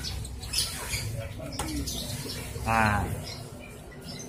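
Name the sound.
young pastel blue and violet lovebirds squawking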